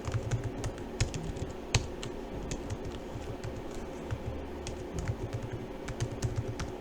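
Rapid, uneven clicking of keys on a computer keyboard as details are typed into a form, close and steady throughout with no voices.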